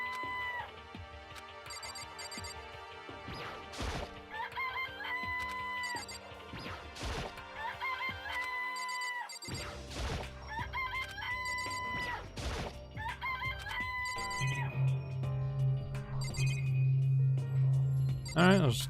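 Chickens in the Danganronpa: Trigger Happy Havoc video game cluck and crow repeatedly alongside sharp crash and whack effects, over a continuous game soundtrack with a player talking at times.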